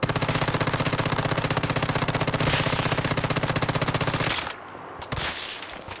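An M416 rifle with a Silent Anabasis Frost Vortex build fires in the Once Human video game, a rapid, evenly paced automatic stream of loud shots for over four seconds that then cuts off to quieter clatter.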